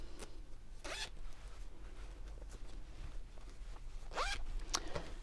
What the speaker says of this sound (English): And let's close the zip up.